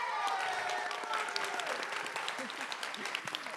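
A crowd at a teen poetry slam semi-final claps steadily for host Vanya, a Youth Speaks program manager, with a voice speaking over the continuous applause and occasional shouts.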